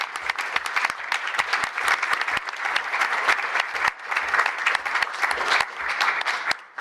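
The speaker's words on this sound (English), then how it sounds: "a big old round of applause for your achievement" A room at a city council regular meeting breaks into sustained applause for a student's achievement, with dense, even clapping from many hands that dips briefly midway and then carries on steadily to the end.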